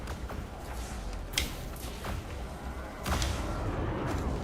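A rumbling barrage of ship weapons fire in Elite Dangerous space combat: repeated heavy thuds and booms over a constant low engine drone, with a stronger hit burst near the end.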